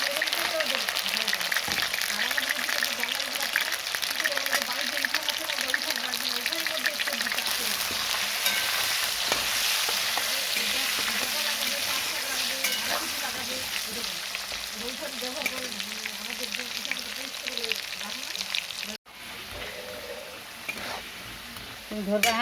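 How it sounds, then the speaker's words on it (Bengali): Mutton kosha sizzles and fries steadily in a pan with stirring scrapes throughout, loud and close, briefly cutting out near the end before resuming. "রান্না করতেছি। মাটন কষা"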